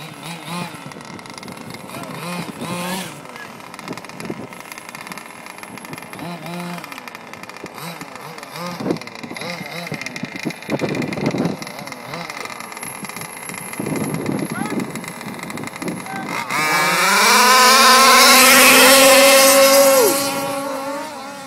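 Losi 5T RC trophy trucks with small gas engines race by, buzzing and whining under excited talk, then one engine screams close and loud near the end.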